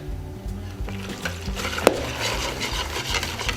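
Milk being poured into and stirred inside a Trittico Executive Evo cooking machine, with a steady low mechanical hum, a soft continuous stirring swish and one brief sharp clink midway.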